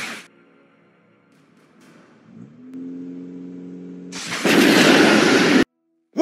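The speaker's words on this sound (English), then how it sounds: "Why the hell is an Autobot shuttle firing at us?" Explosion effect from a spaceship weapon volley in a Transformers stop-motion scene, with an Autobot shuttle firing: a low rising hum builds, then a loud roaring blast bursts in, holds for about a second, and cuts off abruptly.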